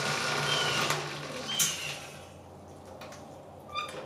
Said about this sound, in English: Something disengages in there, makes a weird sound.